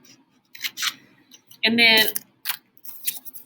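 Scissors snip through paper to shape the blades of a paper helicopter, one close crisp cut in the middle with a few lighter rustles, while a person talks briefly before and after it.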